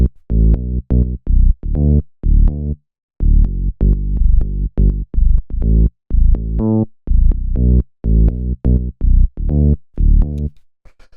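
A funky disco house bass line moves through a chord progression in short, punchy, rhythmic notes with brief gaps between them. It plays loud and alone, with no talking.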